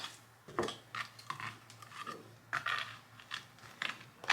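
Scissors snip and crunch through craft material for a Dollar Tree tile pumpkin, with a series of short, close cuts and light scraping sounds at an irregular pace.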